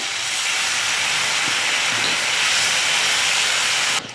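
Water splashed into a hot pan of chana chilli on a low gas flame sets off a loud, steady steam hiss that fills the whole stretch and cuts off abruptly at the end.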